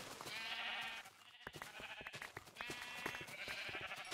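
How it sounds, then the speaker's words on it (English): Sheep in the Minecraft video game bleat again and again in a run of wavering, nasal calls that rise and fall in loudness, with short game clicks and movement noises between them. "Right, one sheep's got away."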